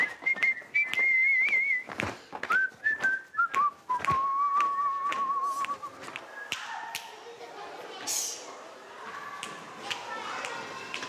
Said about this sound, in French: les enfants apprennent le sifflement traditionnel de l'île de La Gomera